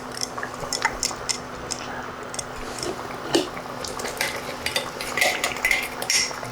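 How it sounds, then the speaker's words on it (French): Cooked white beans tumble into a pot of vegetables with scattered clinks of a utensil against the pot, soft wet squishes and light stirring, close and moderately loud without voices. "je vais rajouter les haricots blancs"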